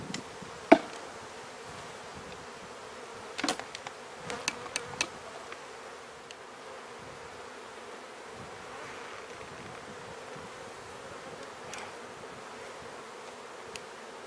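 Agitated honey bees swarm around honey frames being pulled from a hive, a faint continuous buzzing drone with a few sharp knocks and clicks of handling, no voices.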